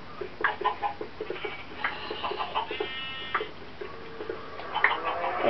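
Chicken clucks from the Minecraft video game, several short chirpy bursts scattered over a busy background of game sounds, moderately loud and close.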